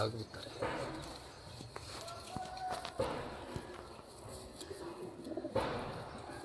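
Golden pigeons coo softly in the background while people talk nearby, with occasional rustling and thumps.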